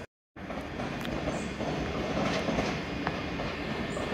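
Train 185112 moving through Edinburgh Waverley station, a loud continuous rumble of wheels and rolling stock with faint rail clicks and a brief squeal, beginning abruptly after a short silence.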